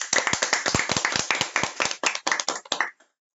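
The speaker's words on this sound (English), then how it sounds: "Let's give you a big round of applause" An audience at a children's story competition celebration ceremony claps for about three seconds, a dense close patter of hands that stops abruptly.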